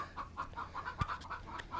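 Chickens on a farm hit by a hurricane cluck softly and repeatedly nearby, with one sharper thump partway through; the scene is quiet and no one speaks.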